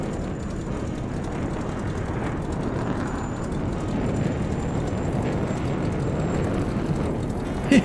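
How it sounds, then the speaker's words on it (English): A military jet in a flight simulator game produces a continuous low, rumbling roar that holds at an even, moderate level throughout. "I think there's a jet out here somewhere. Sounds like a military jet."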